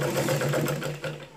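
Brief, close mechanical whirring of a sewing machine stitching a blouse, a steady running hum lasting just over a second.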